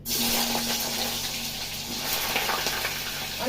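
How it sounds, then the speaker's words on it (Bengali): Chandramukhi potatoes frying in a pan on a home kitchen stove, giving a steady, close, even hiss and sizzle that carries on without a break and without speech. "আলু গুলো ভেজে নিচ্ছি"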